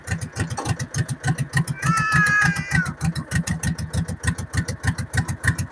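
A tractor engine chugs nearby in a fast, steady, pulsing rhythm, loud and continuous, with a brief higher whine partway through.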